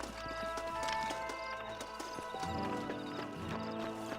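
Horses' hooves clip-clop in Red Dead Redemption as riders dismount, an uneven run of close hoofbeats under a sustained musical score, with a brief whinny and no clear speech.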